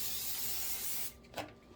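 Cooking spray sprays onto a pan as a steady close hiss for about a second, then stops and leaves a brief faint clatter afterward.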